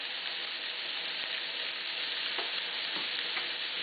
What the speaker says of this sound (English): I put in my sausage, and I also have in there my onions.